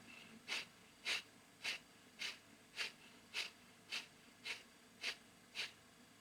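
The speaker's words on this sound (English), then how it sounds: "So that's 10 exhales and then 1 big inhale and exhale through the nose." Ten sharp, forceful exhales through the nose, evenly spaced about half a second apart, come from a yoga breathing exercise, close and clear with no talking over them.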